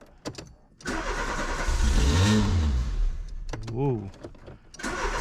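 A Peugeot 205 fitted with a Russian carburetor cranks and fires up, the engine catching with a rising rev, dipping, then a second quick rev; a person briefly exclaims.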